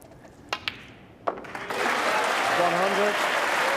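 A snooker crowd breaks into sustained applause for a century break, following a few sharp isolated clicks; the clapping is loud, dense and continuous, and a voice is faintly audible beneath it.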